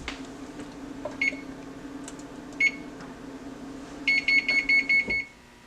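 An oven control panel beeps as it is set to preheat to 350 degrees: two separate single beeps, then a quick run of about six bright tones near the end, over a steady low appliance hum.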